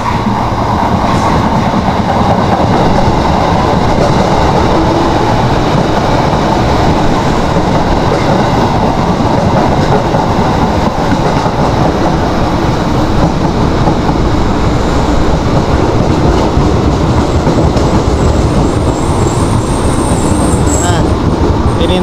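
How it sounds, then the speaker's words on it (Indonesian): A KRL commuter train at a station platform, its steady rolling rumble and rail clatter filling the whole stretch loudly and continuously, with a station announcement in the background. "Ini nanti KRL yang akan berangkat lebih dahulu di jalur 4"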